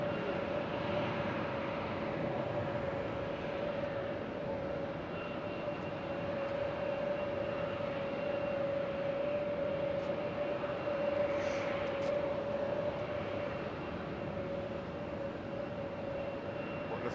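Lufthansa Boeing 747 beginning its takeoff roll at Houston's George Bush Intercontinental Airport, a continuous heavy jet roar with a steady droning tone that swells slightly midway, distant and sustained with no talk over it.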